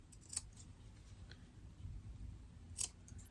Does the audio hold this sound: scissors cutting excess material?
yes